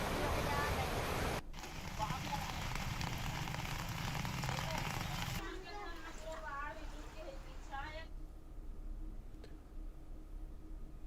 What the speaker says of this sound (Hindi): कोरबा में जिस तरीके से लगातार बारिश हो रही है